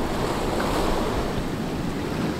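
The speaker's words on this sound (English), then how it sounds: "off in the distance, you can hear the roar of the waves crashing up on the rocks" A steady, continuous roar of ocean waves crashing on rocks, heavy and unbroken, with no voices.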